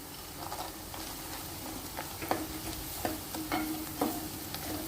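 Cashews and a bay leaf fry in a pan with green chillies for an Andhra-style chicken curry, a steady low sizzle broken by scattered clicks and scrapes of stirring, close and fairly quiet.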